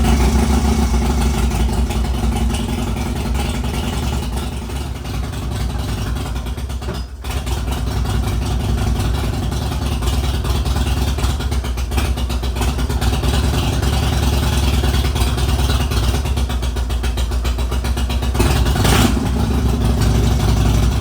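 Harley-Davidson Dyna motorcycle engine running roughly in a workshop, a loud, close, continuous low rumble with an uneven idle and occasional revving, alone throughout.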